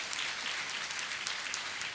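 At a motivational session for entrance-exam students, an audience claps steadily, soft and somewhat distant, with a few sharper claps standing out from the wash.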